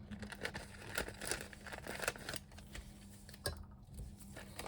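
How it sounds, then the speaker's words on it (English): Plastic piping bag crinkles and rustles close by with sharp snips of cutting, soft and intermittent, while resin flowers are being made. "So this is the piping bag, but I'm gonna cut it because it's too big."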